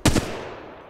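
Gunfire from the mobile battle-royale game Apex Legends Mobile: a loud, close burst of two or three rapid shots in the first fifth of a second, followed by a decaying echoing tail.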